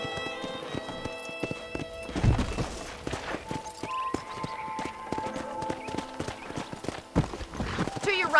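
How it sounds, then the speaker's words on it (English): Horse hooves clip-clop rhythmically on a ranch in the Red Dead Redemption video game, mixed with a brief whinny, game music and a man's speech. "let's see if you can still ride a horse"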